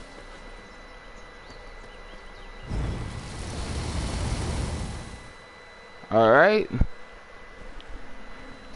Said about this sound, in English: Kill the bees.